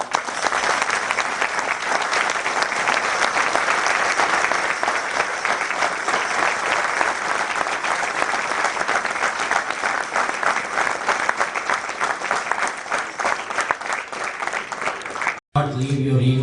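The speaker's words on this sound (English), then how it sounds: "I want to recognize all of them with a thunderous applause from all of you." A large crowd at a Hindu temple gathering gives sustained, loud applause, dense steady clapping for about fifteen seconds before cutting off abruptly.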